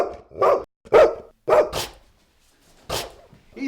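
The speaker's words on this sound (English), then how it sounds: "Mommy wants you to stop barking right now" A dog barks loud and close in a string of sharp barks with short pauses between them, several in quick succession and then one more after a gap.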